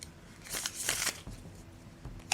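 A new Greenwood tarot deck with stiff cards is shuffled up close, making soft riffling and brushing bursts of card against card that are fairly quiet, with no talk.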